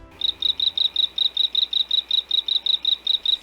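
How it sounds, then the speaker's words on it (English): A small frog chirps in a rapid, even series of short, high-pitched pulses, repeating steadily and fairly close with nothing else heard. "You may think that frogs croak, but he sort of chirps."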